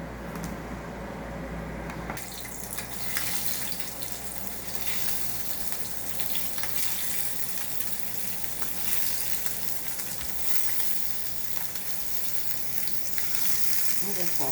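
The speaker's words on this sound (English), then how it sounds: "I'm just going to quickly fry them. Actually, I'm going to saute them." Shrimp sizzle and fry in a hot pan with a dense, constant crackle that jumps up in intensity as they are laid in, then holds loud and steady throughout.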